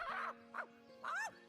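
A dog in the role-playing game Divinity: Original Sin gives three quick, high, yelping barks close up, each short and whiny, with brief gaps between them.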